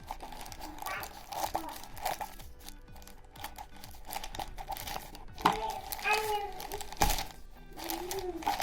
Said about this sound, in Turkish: Şimdi bakalım açalım poşetimizi.